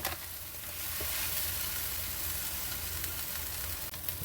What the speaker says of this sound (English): Now place the sandwich directly on that shredded cheese. This will create a delicious crispy crust.